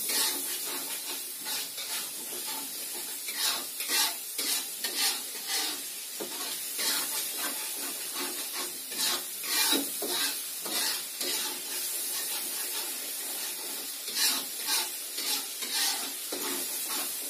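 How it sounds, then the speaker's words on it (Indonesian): Spices sauté in a pan with a constant bright sizzle and hiss, broken by repeated scraping stir strokes from a spatula, close and loud with no voices. "dulu saya tumis dulu biar harum"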